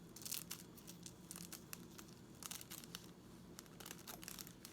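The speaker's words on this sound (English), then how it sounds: "And you're going to cut here." Scissors cutting paper halfway along a fold for a handmade mitten gift pack, a faint series of short, crisp snips and rustles spaced irregularly, heard close with no talking.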